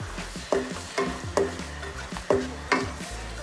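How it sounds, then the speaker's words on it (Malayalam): Onions sauté in coconut oil in a pan, a steady sizzle punctuated by regular, close scraping strokes of a spoon about twice a second. "ഇതെല്ലാം എടുത്തതിന് ശേഷമാണ് ഇതിലേക്ക് ഉള്ളി ഇട്ടിട്ടൊന്ന് വാട്ടാൻ വേണ്ടിയിട്ട്"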